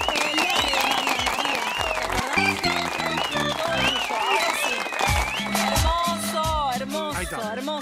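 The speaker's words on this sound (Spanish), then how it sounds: "Con un aplauso." Studio audience applause on a cooking show as a dish of chicken wings in white wine is finished, loud clapping mixed with excited voices and shouts talking over it throughout.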